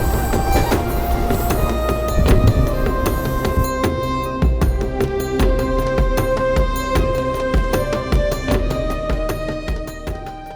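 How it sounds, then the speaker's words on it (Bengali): An empty Barrackpore local train running on the rails, a loud continuous rumble with rhythmic clickety-clack wheel beats and metallic rattling, heard from inside the carriage with no talk. "একটা ফাঁকা ট্রেনে উঠে গেলাম"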